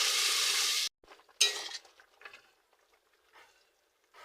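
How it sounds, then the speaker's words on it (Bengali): Water poured into a pan of potatoes fried in spices, a loud rushing sizzle at the start that cuts off and then flares again, followed by spoon stirring and fading, bubbling sizzles. "এবারে আমি জল দিয়ে দেব।"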